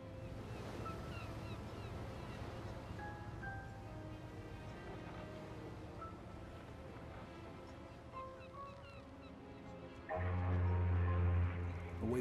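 Ocean waves from the video game Mafia 2 wash in a steady, continuous surf beneath a soft musical score, swelling louder and heavier over the final couple of seconds.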